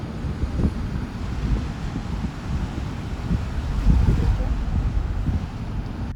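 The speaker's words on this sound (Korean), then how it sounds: "파도가 좀 셉니다" Strong ocean waves at a beach campsite in Jumunjin, a steady low roar of surf mixed with wind buffeting the microphone, continuous and fairly loud with no talk.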